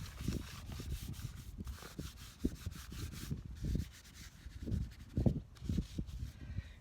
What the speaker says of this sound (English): I'll put it in my hand and then just rub it over the top of the pipe